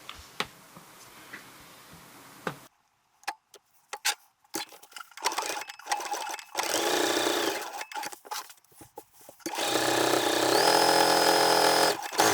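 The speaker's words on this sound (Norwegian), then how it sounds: "Sy rundt hele kragen med rettsøm." A home sewing machine runs a straight stitch around a jacket collar, starting after quiet handling clicks with short stop-start bursts, then longer steady whirring runs of the motor and needle, close by with no talking.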